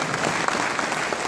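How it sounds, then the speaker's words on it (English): An audience at a baseball fundraiser event claps steadily, a dense, even wash of applause from a crowd with no voices standing out. "give yourselves a round of applause for being here"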